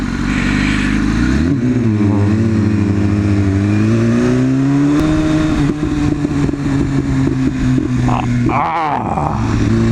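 A Nimbus motorcycle exhaust rumbles loudly up close, revving up and down in waves with a throaty, growling tone.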